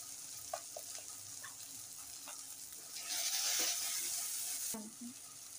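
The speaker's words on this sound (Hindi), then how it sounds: "मसाला भून गया है दोस्तों" Ground masala spices roast in a pan with a soft, continuous sizzle, broken by scattered stirring scrapes and a louder hiss that swells for a moment before settling back down.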